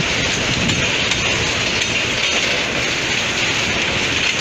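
A train with rail wagons passes near Cornélio Procópio in Paraná, creating a loud, continuous, close rushing rumble that fills the whole clip without a break.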